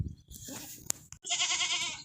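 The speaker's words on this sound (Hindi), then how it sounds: "बहुत ज़बरदस्त बकरा है।" A goat bleats nearby: a short sound, then a clear, wavering bleat held for nearly a second.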